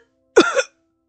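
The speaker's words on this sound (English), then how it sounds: "Luca was sleeping, but his rest was disturbed by painful coughs from time to time." A single short, painful cough from a character in the game Piofiore: Fated Memories, a close, harsh two-part burst lasting about a third of a second, surrounded by silence.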